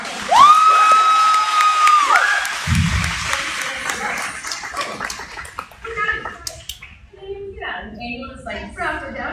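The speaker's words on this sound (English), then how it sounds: "can we give her a huge applause?" A live stage-event crowd applauds and cheers loudly at first, along with a whistle, then the clapping fades as voices talk over it.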